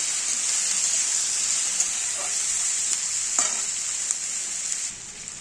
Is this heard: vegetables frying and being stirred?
yes